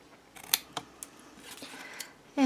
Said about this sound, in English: We're just going to cut out that square.